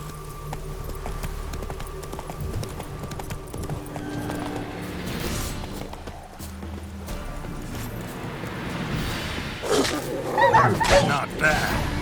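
Horse hooves clip-clopping as Geralt rides Roach through The Witcher 3, a steady rhythm under game music and ambient sound, with a voice speaking briefly over it.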